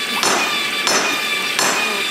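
Three sharp metallic strikes of a hammer on metal at a forge ring out at an even, unhurried pace, each blow leaving a bright, lingering ring.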